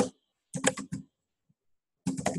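A search is typed on a computer keyboard in two short bursts of quick clicking keystrokes separated by silence, close and fairly quiet.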